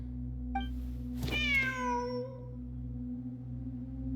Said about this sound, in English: Wait, there it is! The cat!